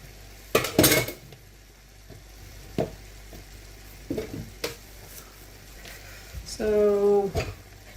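A fork beats egg with cream and egg yolks, seasoned with salt and cumin, against a bowl for an onion tart, giving a few sharp clinks and a short rapid rattling burst near the end.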